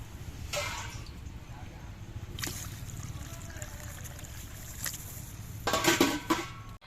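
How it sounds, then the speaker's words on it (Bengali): Water poured into a cooking pot of dal to boil it, a steady low pouring rush with a few brief clinks of metal cookware and louder splashing toward the end. "এবার এরপর জল দিয়ে দিচ্ছি, এই জল দিয়ে ডালটা সেদ্ধ করে নেব।"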